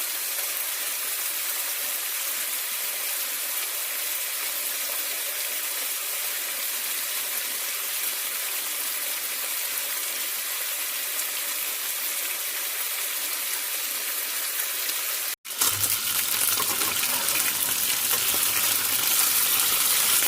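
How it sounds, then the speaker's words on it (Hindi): Chicken pieces fry in a little oil in a pan for chicken cacciatore, giving a steady, close broadband sizzle with no talking, briefly cut off near the end before the crackle picks up again. "अभी इनको हम अच्छे से इसमें फ्राई कर लेंगे, इसी तरह थोड़े से ऑयल में"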